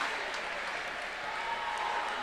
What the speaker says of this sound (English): the crowd from both sides gives her a rousing round of applause